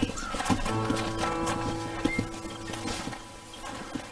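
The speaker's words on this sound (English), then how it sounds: "Hit your horse and wait for me by the stable." Horse hooves clip-clop steadily through Red Dead Redemption's ranch setting, a rhythmic run of close, clear hoof strikes with an occasional whinny and some background game ambience.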